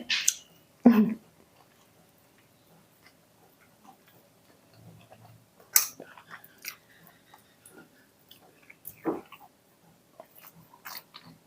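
Soft, close chewing and crunching of food during a meal, a few distinct bites and small clicks spaced out over a quiet background.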